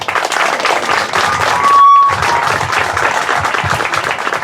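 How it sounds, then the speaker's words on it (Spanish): Audience applause at a fantasy novel presentation, steady and full clapping from a seated crowd filling the room for several seconds, fairly loud and close. "Un aplauso para él."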